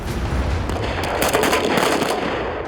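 Rapid gunfire from special forces soldiers during a moving marksmanship drill, loud dense bursts of shots blending into a continuous crackling roar, heard outdoors without voices.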